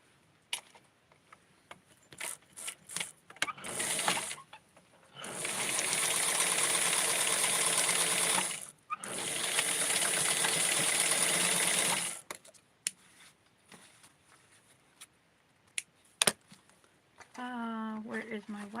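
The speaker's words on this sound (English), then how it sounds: "So what I'm going to do now is align this and sew it." A sewing machine stitching fabric for custom doll clothing runs in two long steady bursts of close, even mechanical whirring, with short clicks and pauses between them and a voice speaking briefly at the end.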